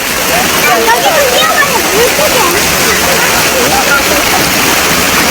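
A Korean river rushes steadily and loudly in a continuous broad wash of flowing water at a summer swimming spot, with voices of people talking mixed faintly into the noise.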